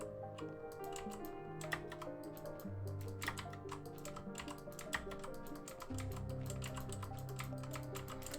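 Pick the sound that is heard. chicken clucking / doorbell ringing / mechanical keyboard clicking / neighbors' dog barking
mechanical keyboard clicking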